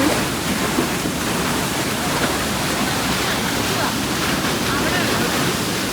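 Water rushes steadily and loudly in Mid-Wales, a constant broad roar of flowing water with no pauses.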